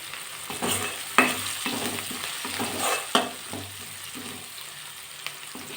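Tomato and onion with a little turmeric sizzle in a pan while a spoon stirs them in repeated strokes, giving a steady frying hiss broken by a few sharper scrapes, close by with no talk.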